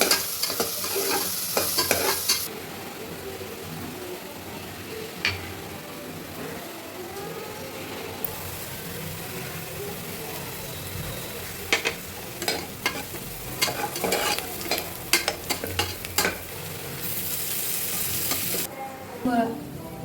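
Onions sautéing in a pan with fennel and bay leaf, a steady hissing sizzle with repeated scraping stirs and clicks of the spoon against the pan, fairly close and without talk.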